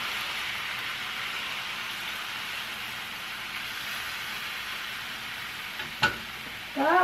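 Raw small smelt fish stirred in a pan for adobong smelt, a steady soft sizzle and scrape that runs throughout, close and fairly quiet, ending in a couple of sharper clinks.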